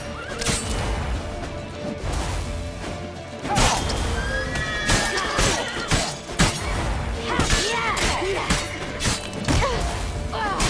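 In The Witcher 3, a horse neighs and whinnies several times amid crashing and thudding combat noise, with hoofbeats and voices shouting.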